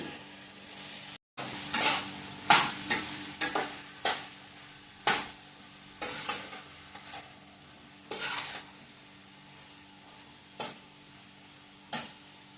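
Small onions, four or five, frying in a pan for a Shivaratri festival meal, with a steady sizzle broken by about a dozen sharp spatula scrapes and stirs at uneven intervals, close and clear with no talk.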